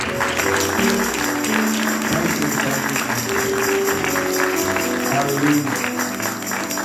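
A church congregation claps steadily for a guest during a Sunday service, sustained applause over a bed of musical tones, with a voice briefly speaking over it.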